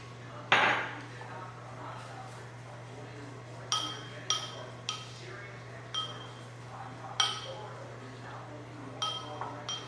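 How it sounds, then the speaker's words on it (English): Ingredients seasoned with oregano are given a quick stir in a bowl, a utensil clinking sharply against the dish several times at uneven intervals over a quiet background. "I'm just gonna give this a quick mix"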